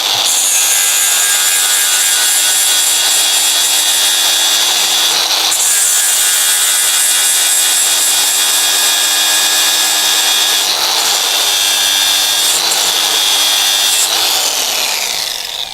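Coarse Tyrolit SCM abrasive grinding a metal surface under a power tool, a loud continuous abrasive rubbing whir that holds steady throughout with a brief dip partway.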